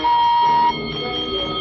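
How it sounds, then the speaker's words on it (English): A shrill, steady electronic beep from an old science-fiction film about a rocket attack, loud and continuous, holding one tone before dropping to a slightly quieter sustained buzz. "they've got more of an annoying beep than us"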